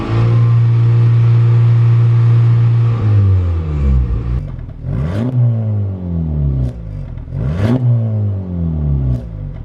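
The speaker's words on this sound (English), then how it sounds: "Now rev it in comfort." Modified exhaust on a 2023 Honda Civic Type R in comfort mode, loud and close: a steady high idle drone falls away, then two sharp revs climb and drop back, each ending in a crisp crackle.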